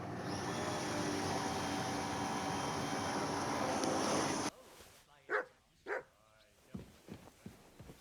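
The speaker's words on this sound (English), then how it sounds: "You silly mutt." A dog in the Kingdom Come Deliverance 2 video game gives two or three short, fairly close barks and whimpers after a steady wash of ambient game noise cuts out.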